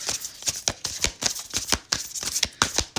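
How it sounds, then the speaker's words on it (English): Tarot cards are shuffled by hand in quick, crisp riffling bursts, about a dozen close papery flicks in a steady rhythm with no talking. "I'm just going to keep shuffling until Spirit tells me to stop."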